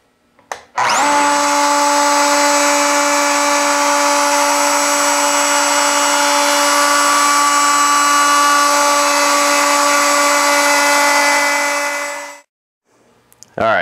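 Router cutting wood for a step stool, a loud high whine that starts abruptly, holds steady for about eleven seconds, then spins down, close and alone.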